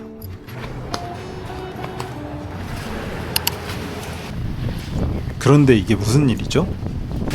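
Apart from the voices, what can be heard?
strong wind blowing at a beach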